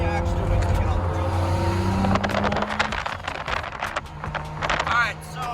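Car engine and road noise inside a moving car on a cold Florida night, a steady low rumble with wind hiss, rising to a broadband roar partway through.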